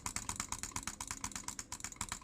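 Fast butterfly clicking on a computer mouse makes a steady, rapid train of crisp, close clicks at an even rhythm, heard alone without any talk.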